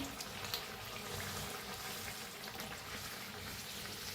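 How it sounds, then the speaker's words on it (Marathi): Carrot puris pressed down and deep-frying in hot oil give a dense, steady crackling sizzle that stays close and even throughout, with no voices. "असं थोडंसं प्रेस करून ना तळून घेऊया"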